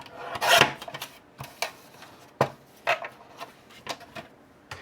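Paper for mini sticky notes is cut and scored in a string of sharp, irregular scraping strokes, one longer rasp first and then shorter snips spaced apart, close up.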